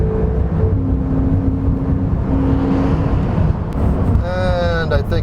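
Porsche 911 GT2 RS (2018, 700 hp, turbocharged) at full throttle up a hill, a loud, sustained engine roar that holds steady and then swells, with a voice briefly heard near the end.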